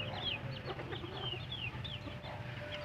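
Chickens and small chicks clucking and cheeping at evening feeding time, with a steady stream of high peeps over soft low clucks and a constant background hum, all at moderate distance.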